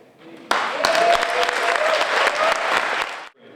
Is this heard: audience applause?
yes